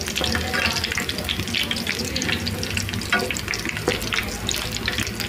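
Aloe vera pieces frying in oil for a homemade hair oil, a loud, dense, continuous sizzle and crackle up close, with occasional stirring scrapes and no talking.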